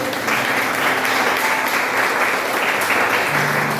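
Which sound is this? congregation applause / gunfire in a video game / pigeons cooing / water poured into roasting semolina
congregation applause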